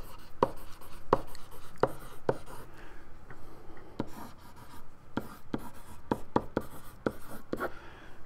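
Pen strokes on a SMART Board: irregular sharp taps and scratchy drags across several seconds, close and moderately loud, with no talking.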